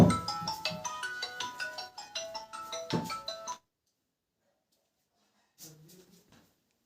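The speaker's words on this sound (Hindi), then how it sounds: "देखिए किसका फोन आ रहा है एक बार।" A phone ringtone plays a bright melodic pattern of repeated notes loudly for a few seconds, then stops, followed by silence and a brief faint sound.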